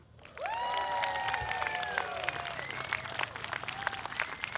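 A concert audience breaks into sustained applause with some cheering and a whooping voice, steady clapping continuing throughout after a brief quiet start.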